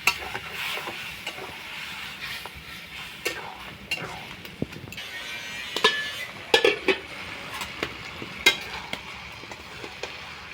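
Kochur lati vegetable simmering with water in a pan, village-style, a soft steady bubbling hiss broken by frequent light clinks and scrapes of a utensil against the pan.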